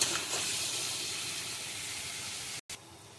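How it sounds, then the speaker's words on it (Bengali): Prawns fry in a pan of mustard and poppy-seed paste, giving a steady, loud sizzling hiss that cuts out briefly near the end. "চিংড়ি মাছটা দিয়ে আবার ভালো করে এবারে এটাকে ভাজবো, যাতে চিংড়ি মাছটা একটু ভাজা হয় ভালো করে"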